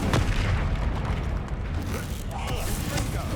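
A Confringo spell blast in Hogwarts Legacy gameplay: a booming, rumbling burst with mechanical crackle, close and loud, followed by lingering low rumble, with a voice speaking over the game sound.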